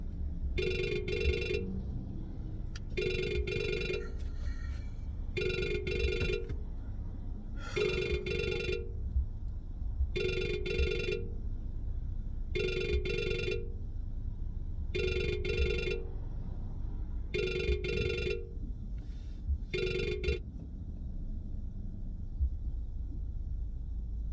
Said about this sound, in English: I had a phone call that come through